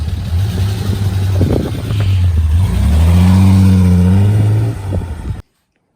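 A used but well-kept 2.9-litre 16-valve Cologne engine taken from a hearse runs steadily at close range, its low idle hum rising briefly in a few revs before cutting off.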